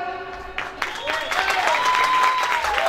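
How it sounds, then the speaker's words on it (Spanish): Applause builds from a group, rising over a tonal musical background, with scattered claps growing into steady clapping. "Aplausos para Jennifer."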